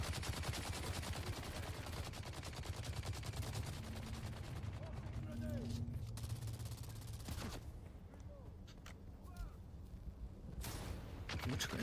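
Gunfire in the video game Dune: Awakening, rapid bursts of shots crackling in a dense stream, fairly quiet and continuous with a few sharper isolated cracks toward the end.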